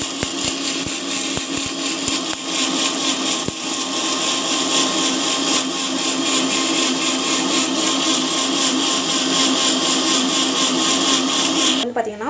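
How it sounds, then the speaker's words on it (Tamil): An electric mixer grinder whirs continuously and loudly while grinding spices, a steady motor drone with a few knocks near the start and a brief change in pitch at the end. "நம்ம வந்து மிக்சியில் போட்டு அரைச்சிக்கலாம்"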